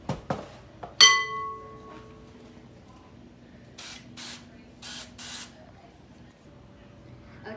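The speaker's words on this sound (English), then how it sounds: "Spray them thoroughly with cooking spray." Several short bursts of cooking spray in quick succession, preceded by a few clinks and taps, close and fairly quiet.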